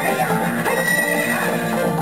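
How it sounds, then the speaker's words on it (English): Epona, the horse in the video game Zelda: Ocarina of Time, gives a clear neigh, alone and fairly close, with no voices over it. "What's up with that horse? Is that Epona?"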